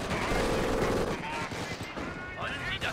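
Machine gun fire and other gunfire in Company of Heroes Blitzkrieg during a trench defense battle, a dense rattle of bursts mixed with battle noise and someone talking over it.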